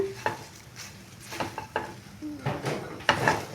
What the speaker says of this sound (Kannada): ನೋಡಿ ಈಗ ಫ್ರೈ ಆಗ್ತಾ ಇದೆ